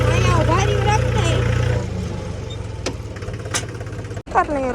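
A tractor engine runs on a farm during onion planting, with a loud low rumble that is heavier at first and then drops to a quieter steady idle. Voices talk over it.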